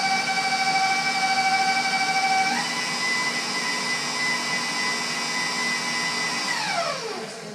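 An electric stand mixer beats cinnamon roll dough with eggs and flour, a loud steady motor whine that shifts pitch partway through and winds down at the end, close and alone.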